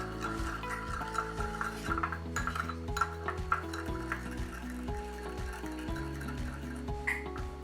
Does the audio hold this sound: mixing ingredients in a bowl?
yes